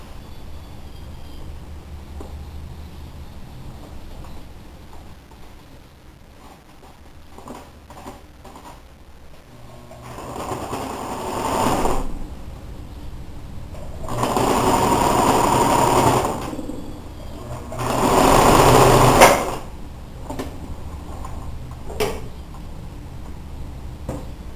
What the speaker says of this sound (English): I just sewed a straight line down the middle on the seam.